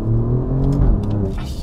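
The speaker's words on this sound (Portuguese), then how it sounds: "a nível de escape, este é o que tem o melhor escape de origem" The engine of a 2018 pre-facelift Alfa Romeo Giulia Quadrifoglio with its factory exhaust rumbles and revs in a steady low drone while someone talks over it.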